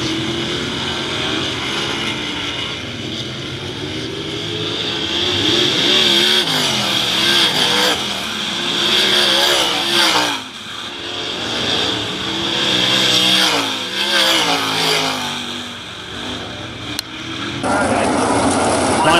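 Sprint cars at a World of Outlaws race at Attica Raceway Park roar continuously as the pack laps the dirt oval, engines swelling and fading as they pass, loud and close with a public address voice faintly underneath.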